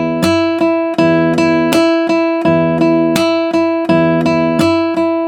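An acoustic guitar plays a melody exercise in eighth notes, plucked notes ringing clearly and evenly with crisp attacks and short decays, played solo up close.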